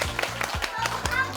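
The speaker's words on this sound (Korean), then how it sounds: "우리 박수 한번 쳐줄까요?" Children clap their hands together in a few quick, close claps during a CPR lesson for kids, with voices chattering around the claps.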